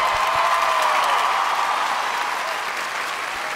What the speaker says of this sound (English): All our Vietnam vets, give them a round of applause, please.